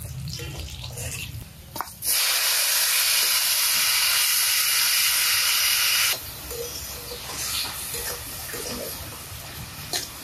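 Hot oil tempered with garlic and black cumin is poured over bottle gourd greens and erupts into a loud, rushing hiss for about four seconds, then settles back to a quieter sizzle.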